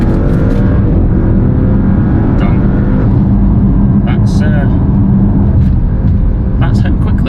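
An Audi RS6 with its exhaust silencer deleted accelerates hard on the road, a loud, steady engine roar building continuously with a faint voice briefly heard over it.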